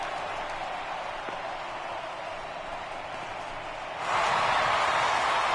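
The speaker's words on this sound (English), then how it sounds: "the home crowd is loving it as they jumped out in front in the bottom of the 8th" Home crowd at a minor-league playoff game in the baseball video game MLB The Show, a steady broad roar of cheering and applause that swells noticeably louder near the end.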